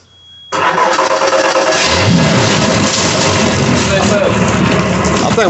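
A refurbished center console boat engine cranks with a sharp onset, then catches and settles into a loud, steady running rumble, close to the listener.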